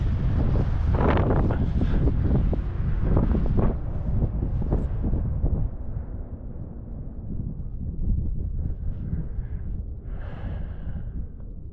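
Wind buffets a microphone outdoors on Tasmania's east coast, a loud continuous rumbling roar that gusts and slowly eases, with a faint high tone near the end.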